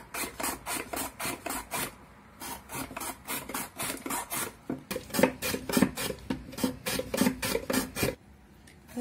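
Carrot being grated into thin strips on a Korean grater, close rhythmic rasping strokes in quick repeated runs with brief pauses between them.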